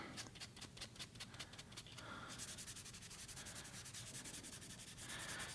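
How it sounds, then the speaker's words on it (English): Sandpaper rubbed back and forth on a piece of wood before oiling, giving a close, quiet, rhythmic scratchy hiss in quick repeated strokes, with no talking. "we just rub it back and forward on the piece of wood like so"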